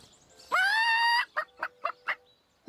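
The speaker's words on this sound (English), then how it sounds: "A chicken." A single loud, close chicken call from the video game Divinity: Original Sin: a long, rising squawk followed by four short, evenly spaced clucks.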